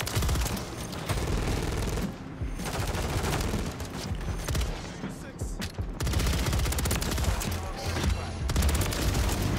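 Rapid bursts from a Ram 9 rifle in Modern Warfare 3, loud and close, firing in long sustained strings with brief pauses between, under dense game sound.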